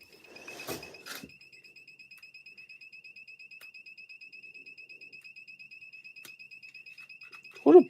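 Brand-new, never-used electronic device fitted on a backhoe gives a steady, rapid train of faint high-pitched beeps throughout, with a couple of short knocks near the start and a louder thump at the end.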